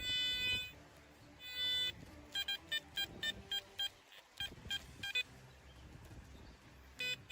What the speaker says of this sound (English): The detector is receiving a signal.